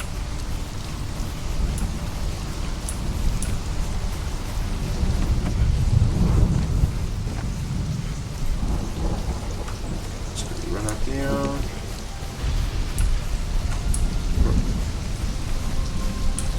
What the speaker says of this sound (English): I think it's just a thunderstorm at the moment, though.